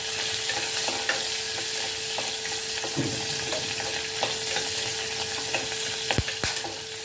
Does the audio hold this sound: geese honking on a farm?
no